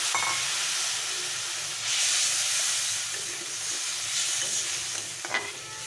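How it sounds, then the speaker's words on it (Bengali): Water poured into a pan of fried mango and spices for a fish curry, a loud steamy hiss and sizzle that swells and fades in waves, with a faint clink near the end and no voices. "তো আমার আমটা ভাজা হয়ে গেছে মশলার সঙ্গে এবার আমি পরিমাণ মতো জল দিয়ে দেবো"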